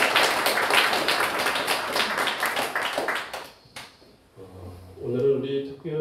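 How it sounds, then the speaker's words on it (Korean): A church congregation claps in steady, dense applause for several seconds, then it fades and a voice with soft music takes over. "다시 한번 감사의 박수 하겠습니다."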